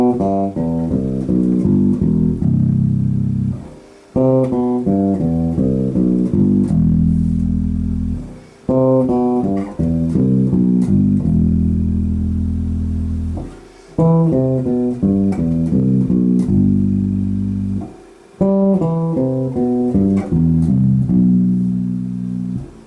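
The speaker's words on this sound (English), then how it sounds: "Descending filter would sound like this." Synthesizer playing repeated falling note patterns through a descending melodic filter sweep, each phrase starting high and stepping down, loud, steady and alone without talk.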